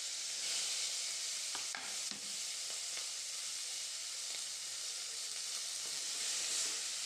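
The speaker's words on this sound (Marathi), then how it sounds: "कांदा छान परतून घेऊ." Onion and green chilli sauté in oil with cumin and mustard seeds for a Vidarbha-style onion zunka, making a soft, continuous sizzle with a few faint stirring clicks.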